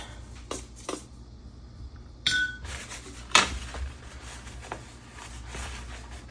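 Brushes and small tools clink and tap against a watercolor palette as a space is cleared on it, with a few sharp knocks and short ringing pings, then quieter scraping.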